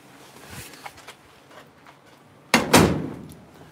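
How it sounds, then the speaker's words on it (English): A garage door is shut: faint knocks and shuffling lead up to a single loud, close thud as the door closes, followed by a short fading rattle. "Let's see if I've left enough room to get the door shut."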